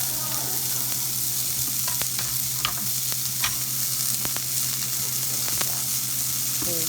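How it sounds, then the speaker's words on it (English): Butter sizzles steadily in a hot pan for chicken and pasta, a continuous bright frying hiss with occasional scrapes and clicks of a big spoon, close and fairly loud with no talking. "Put me a little butter in that pan."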